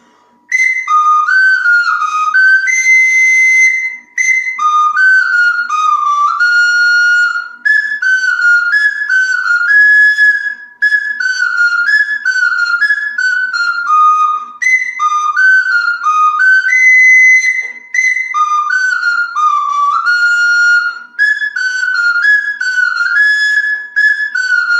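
A Sicilian friscaletto, a small folk flute, plays a lilting Viennese waltz melody alone, its bright, piping phrases rising and falling in steady three-beat groupings with brief breaths between lines.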